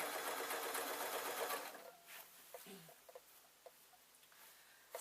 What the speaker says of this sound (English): I am sewing this sort of 7 inches here, and then I'm stopping the machine